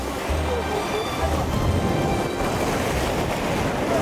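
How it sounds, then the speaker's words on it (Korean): Strong waves breaking on the Dead Sea shore make a steady, loud roar of surf with wind noise across the whole stretch, a continuous close wash without any pause or speech. "파도가 세가지고"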